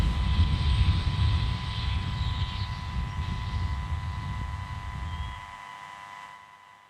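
A SpaceX Falcon 9 rocket climbing after launch from SLC-4E at Vandenberg on a Starlink mission gives a deep, distant roaring rumble that holds steady, then fades away over the last seconds.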